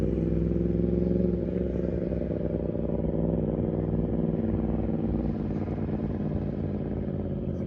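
A Yamaha R1 sportbike circling an open lot with a learner riding, giving a steady, continuous engine drone at moderate distance with no clear revving peaks.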